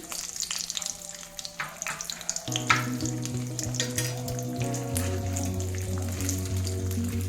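Mustard seeds, cumin and urad dal crackle in hot oil for a chutney tempering, giving a busy crackling sizzle nearby over a steady background hum.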